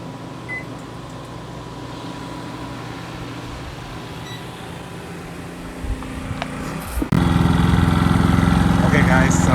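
A Westinghouse iGen4500 generator runs steadily under heavy load from two air conditioners and a microwave, its drone climbing and growing suddenly louder and harsher near the end as it strains, with faint talk in the background.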